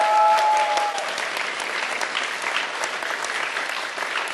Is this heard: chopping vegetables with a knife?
no